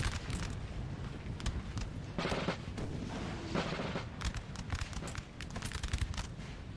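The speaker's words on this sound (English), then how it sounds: "Artillery now coming in." Artillery fire booms through a 4v4 multiplayer Napoleonic battle in a Total War game, with dull heavy thuds over a constant crackling rumble of massed gunfire, dense and unbroken throughout.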